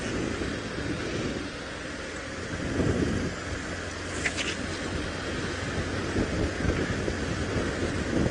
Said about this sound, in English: the wind seems to be getting stronger